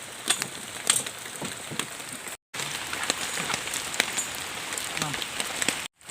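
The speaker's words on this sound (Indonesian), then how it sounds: "Ini suasana hujan ya" Heavy rain pours steadily during a thunderstorm at an oil palm fruit weighing site, a dense close hiss of drops on surfaces with brief gaps, no speech over it.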